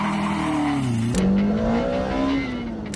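A Toyota MR2 Spyder with a swapped 2ZZ engine and an SC14 supercharger revs close by. Its pitch climbs, dips sharply, then rises steadily again in a loud, continuous drone with no talk.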